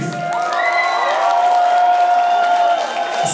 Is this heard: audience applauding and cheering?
yes